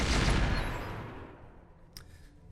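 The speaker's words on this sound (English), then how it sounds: "Gauss cannon." A Gauss cannon firing in the mech video game Roguetech, a loud booming blast that rumbles and fades over about a second and a half, followed by a faint metallic click.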